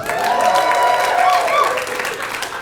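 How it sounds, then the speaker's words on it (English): A comedy club audience claps and cheers together, a loud, steady burst of clapping with some voices mixed in. "Clap your hands if you got a dog."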